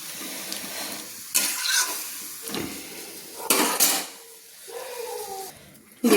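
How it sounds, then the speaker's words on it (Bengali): Water poured into a pan of fried spiced vegetables for a Bengali fish curry with bottle gourd stems, bursts of loud hissing sizzle alternating with quieter bubbling and a few metal utensil clinks, close up. "তো এবার আমি সব মশলা সবজি কষিয়ে আমি একসঙ্গে জল ঢেলে দিলাম"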